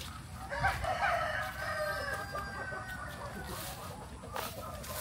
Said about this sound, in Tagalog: Dami mga manok dito, pero hindi lang yung mga native na panabong